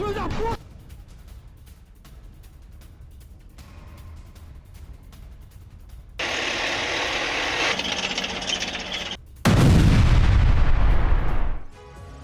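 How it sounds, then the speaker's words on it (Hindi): Bombardment and artillery fire in Rostov, a distant rumbling backdrop followed by two loud sustained bursts of heavy booming noise, the last one strongest before it cuts off. "रोस्तोव के अलग अलग इलाकों में बमबारी हो रही है"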